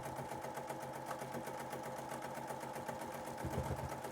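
A sewing machine stitches a sawtooth star quilt block with a steady, fast mechanical whir and rhythmic needle ticking. It runs quietly and alone at an even pace.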